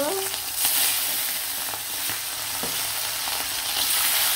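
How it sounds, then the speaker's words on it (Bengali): Hilsa fish hiss and sizzle steadily in very hot oil, a dense, continuous frying crackle with occasional sharper pops and a faint scrape of stirring. "মাছগুলো এখন ভেজে নিব, গরম তেলে দিয়ে দিব।"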